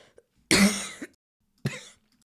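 A single sharp cough close to a microphone during a football fantasy-league livestream, a loud burst with a short tail, followed about a second later by a second, smaller cough or throat-clearing.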